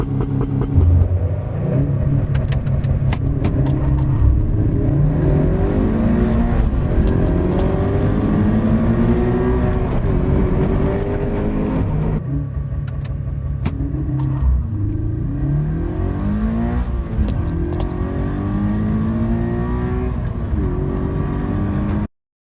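A car running on E85 fuel revs and accelerates hard through repeated gear pulls, its engine note rising in pitch, dropping at each shift and climbing again, loud and close throughout.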